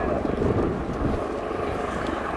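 An Apache attack helicopter manoeuvres at the Royal International Air Tattoo 2019, its rotor and turbine roar rumbling steadily and fairly loud beneath an announcer's commentary.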